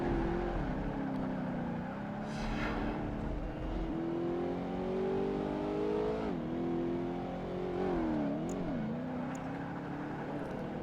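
Race car engine in Project Gotham Racing 2 revving steadily, its pitch rising and dipping through gear changes and corners, loud and continuous with no voice over it.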